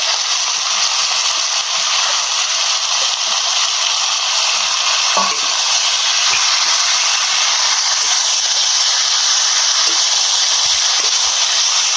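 Ground spice paste with salt and turmeric sizzles in hot oil in a pan while being stirred for a tilapia fish curry, giving a loud, steady frying hiss with occasional light clinks and scrapes.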